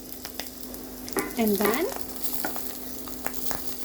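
Seasoned beef sizzling and frying in a pan, a steady close sizzle with a brief burst of stirring and scraping in the middle; a voice speaks briefly.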